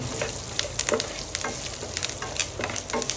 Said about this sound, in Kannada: ನಂತರ ಇದಕ್ಕೆ ಒಂದು ಟೇಬಲ್ ಸ್ಪೂನ್ ಕೊತ್ತಂಬರಿ ಬೀಜ ಕಾಲು ಟೀ ಸ್ಪೂನ್ ಕಾಳು ಮೆಣಸು ಮತ್ತು ಅರ್ಧ ಟೀ ಸ್ಪೂನ್ ಜೀರಿಗೆ ಹಾಕ್ತೀನಿ